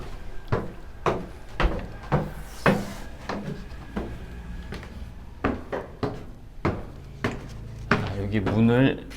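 Doors are pulled open at a gallery exhibition entrance, giving a series of sharp wooden knocks and clunks at irregular intervals, close and fairly loud, with a person talking over them and a longer rattling scrape near the end.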